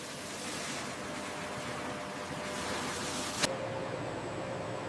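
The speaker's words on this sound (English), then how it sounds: "Clean water rinses the white fibers." Clean water rinses bleached white water hyacinth fibers in a sanitary pad factory, a steady broadband rushing wash that holds throughout, with a brief click near the end before it continues more quietly.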